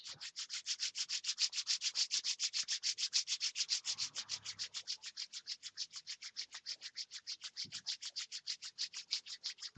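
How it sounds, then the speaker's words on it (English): Palms rub briskly together in a yoga session, a fast, even series of close, dry swishing strokes that keeps a regular back-and-forth rhythm throughout. "Rub your hands together."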